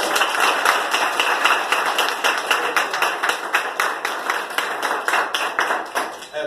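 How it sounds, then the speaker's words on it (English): Applause from a graduation audience, steady overlapping claps that stay fairly even before loosening into more separated claps near the end. "let's give everybody a round of applause"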